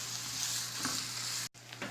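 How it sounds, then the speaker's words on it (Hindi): Onions frying in oil for a tinda masala fry, a steady close sizzle with light stirring scrapes that cuts out briefly near the end, then resumes; no talking. "उसी ऑयल में हम प्याज़ों को फ्राई कर लेंगे।"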